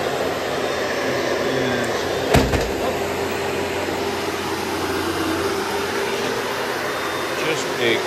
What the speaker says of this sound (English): Just a quick vacuuming.